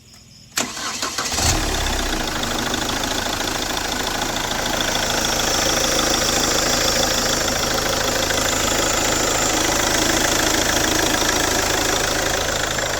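A Chevrolet Captiva diesel engine catches with a sudden start after near silence, then settles into a steady, loud, continuous idle with a fine mechanical clatter, heard close up with no talk.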